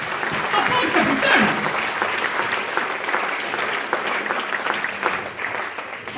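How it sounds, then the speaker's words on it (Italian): An audience claps loudly and steadily at an Italian live event, the applause dense and unbroken for several seconds and fading slightly toward the end. "Anche applauso!"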